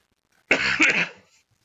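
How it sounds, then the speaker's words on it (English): A single harsh cough, close and fairly loud, lasting about a second in an otherwise quiet room. "Sorry about my cough, guys. It's almost gone."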